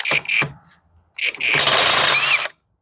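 Short bursts from a power tool, then a longer loud rattling whir as it spins a wheel nut off a 2015 Scion xB, up close.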